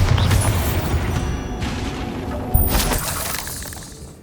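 A Bombarda blasting spell in Hogwarts Legacy erupts with a shattering, crackling burst, followed by a sharp impact and debris fading out over a few seconds.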